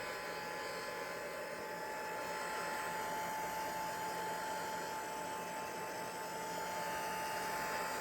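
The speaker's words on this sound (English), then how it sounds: "So I'm just using my heat gun here." A faint, steady motorized whir of a heat gun blowing hot air continuously to dry a gel print, with a constant high-pitched tone and no speech.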